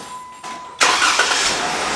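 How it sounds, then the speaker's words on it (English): A Jeep's engine cranks and catches after a near-silent moment, jumping abruptly into a loud, broad roar that settles into a steady running rumble close by. "Jeep's got to be started for those."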